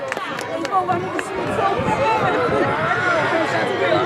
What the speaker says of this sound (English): The crowd behind me here was hyped for that one.